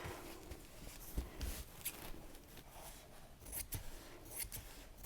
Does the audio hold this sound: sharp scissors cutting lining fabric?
yes